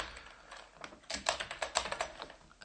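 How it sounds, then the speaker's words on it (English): Typing on a computer keyboard while writing code, a quick run of crisp, close key clicks in irregular bursts after a quiet moment. "Let's go ahead and type in"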